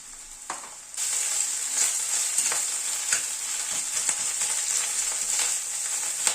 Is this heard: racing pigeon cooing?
no